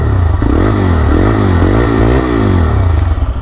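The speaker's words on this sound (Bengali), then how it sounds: "আফটার মার্কেট এক্সস্ট ইউজ করলে যেরকম সাউন্ড আসে ওরকম একটা সাউন্ড।" TVS Raider 125 motorcycle idling close by, its 125 cc engine and exhaust giving a loud, steady throb with a few light blips of throttle, alone without talk; the stock exhaust sounds like an aftermarket one.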